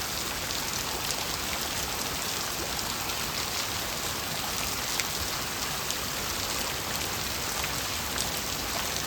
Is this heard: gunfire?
no